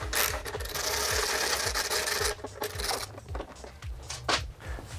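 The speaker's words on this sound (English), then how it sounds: "to do that we will need to remove this fastener and another fastener on the bottom" A hand tool works a fastener loose from the heat shield of a Honda CBR600RR motorcycle. It makes a fast run of ratcheting clicks and scraping rubs up close, then slower mechanical clicks and handling noises, with no talking.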